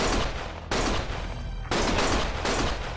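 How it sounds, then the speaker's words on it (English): Loud bursts of rapid gunfire from the video game Lost Judgment come in three or four dense volleys separated by brief lulls, close and harsh, with no talking. "Stop shooting!"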